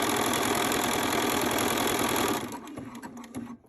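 Sewing machine running a zigzag stitch along the folded-under serged edge of a stretch-knit cami tank top, a loud steady rapid mechanical chatter that stops after about two and a half seconds, leaving faint clicks and handling noise.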